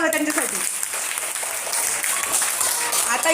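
A group claps loudly to cheer children through a round of a balloon-balancing game, a dense burst of applause with voices calling over it.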